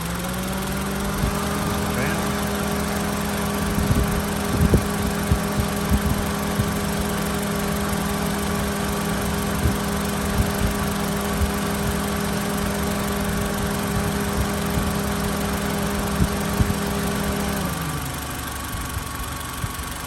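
A 2002 Honda Civic EX coupe engine idles with a steady, even hum for about seventeen seconds, then the rumble cuts off, leaving faint background noise.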